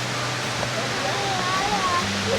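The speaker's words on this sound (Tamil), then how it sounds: "அருவியுடைய சத்தம்." Steady broadband rush of a waterfall at Cascade in the Seychelles, heard from nearby as continuous noise with faint tonal chirps layered over it.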